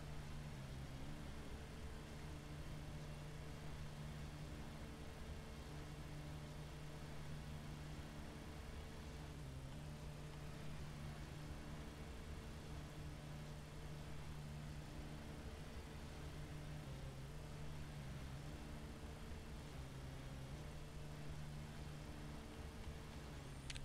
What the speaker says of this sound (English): Trying very hard not to overload our engine there.